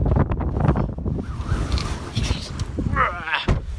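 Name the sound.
wind blowing on open plains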